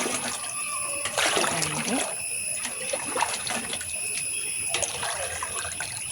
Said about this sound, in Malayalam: അതിലോട്ട് നമ്മൾ 5 ലിറ്റർ വെള്ളമാണ് ഒഴിക്കുന്നത്